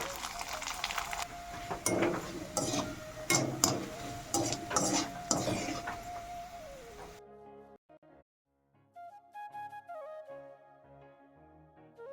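Colored papads frying in hot oil in a village home kitchen, a busy crackling sizzle with stirring clinks for several seconds, then fading to quiet with faint background music-like tones and sparse kitchen sounds.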